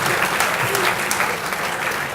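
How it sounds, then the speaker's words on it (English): A crowd of dignitaries and guests at a university event hosted by the Seychelles High Commission applauds in a short, continuous burst of close, dense clapping. "Give him a good applause."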